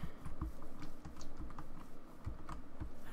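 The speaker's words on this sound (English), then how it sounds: "Can you hear my keyboard?" Computer keyboard typing during a Minecraft survival game session: quick, irregular clicks and taps fairly close up, continuous for a few seconds, quiet overall with no voices.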